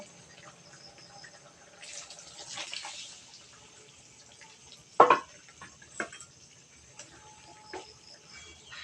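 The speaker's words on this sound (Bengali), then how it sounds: "এবার আমি ডাল দিয়ে দেব" Dal (lentils) goes into a pan of pointed gourd with a single wet plop and splash midway, surrounded by faint simmering and a few small taps.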